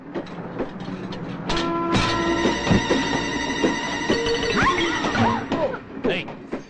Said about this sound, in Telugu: రన్నింగ్ లో ట్రైన్ ఎక్కుతున్నావు